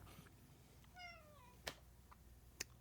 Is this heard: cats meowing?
yes